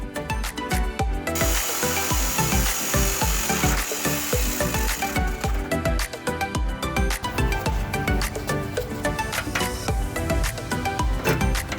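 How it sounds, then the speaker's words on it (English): A jigsaw cuts through a metal van seat, rasping loudly with a rapid, choppy reciprocating buzz that stutters and restarts across the clip, with no voices over it. "So I managed to get that far with the jigsaw"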